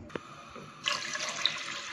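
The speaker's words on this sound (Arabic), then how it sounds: "هحط فيها كوبايتين مية وهنزل بالرز" Water pours steadily into a cooking pot on the stove before rice is added, a close, continuous splashing stream that starts after a small knock and keeps running under no talk.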